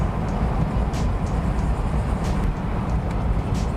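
A 1989 Ford Mustang 5.0 with a five-speed manual, cruising in fifth gear over a bumpy road: a steady, loud low engine drone with road and tyre rumble heard from inside the car, no talk.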